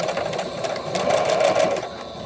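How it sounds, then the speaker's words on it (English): A sewing machine runs steadily up close, back-stitching over elastic on a fabric face mask, its rapid needle chatter continuous for about two seconds before easing off. "we're going to back stitch"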